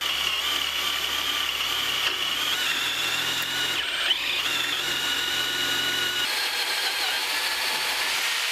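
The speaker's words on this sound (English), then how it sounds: "get this all drilled." A power drill boring a hole in a workpiece held in a vise, whining steadily and close for several seconds with a brief change in pitch midway, no talk.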